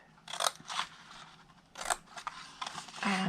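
Scissors cut paper in straight strokes for a stamped graduation gift box, making several crisp snipping crunches in short bursts close to the microphone.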